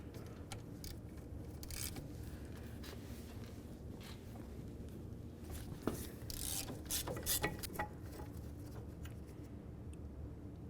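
A ratchet works on the caliper bracket bolts of a 2000-2005 Buick LeSabre, giving quiet, repeated clicking bursts in uneven runs with small metallic knocks between them, close up and without voices.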